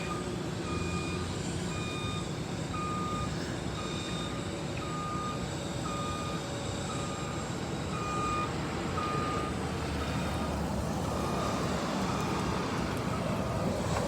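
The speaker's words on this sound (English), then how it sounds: "All right, a couple trucks coming back." Trucks reversing at a build site emit a regular series of high backup beeps, evenly spaced over continuous loud engine rumble and outdoor noise, with a second overlapping beeper appearing later.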